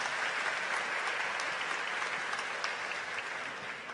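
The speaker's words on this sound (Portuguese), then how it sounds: "Eu queria pedir um aplauso a toda a nossa juventude" A church congregation applauds its youth group, a steady, dense wash of clapping from many hands that holds for the full stretch, fairly distant and even without talk over it.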